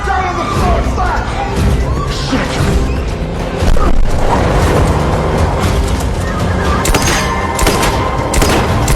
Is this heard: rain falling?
no